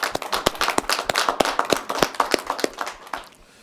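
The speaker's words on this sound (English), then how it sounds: "warm round of applause" Applause at a Chicago City Council meeting, a fairly small group clapping with distinct, close individual hand claps in a quick, uneven rhythm that thins out and stops near the end.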